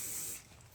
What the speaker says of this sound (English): I'm just spraying this directly to the brush so that I get a nice even distribution of product all throughout